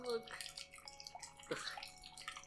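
Soy sauce is poured from high above into a cooking vessel, making a soft, trickling, splashy sound with a few drips. A voice speaks faintly in the background.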